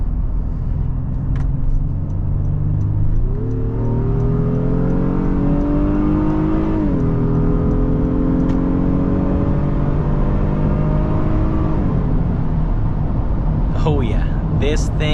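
A 2023 Honda Pilot Trail Sport with a 10-speed automatic accelerates on an evening test drive, its engine note rising steadily through shifts as a loud, continuous drone with road noise underneath, and a voice speaking over it.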